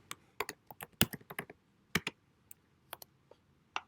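Typing on a computer keyboard, close and quiet, with irregular bursts of sharp key clicks, a quick flurry in the first second and a half, then sparser single taps.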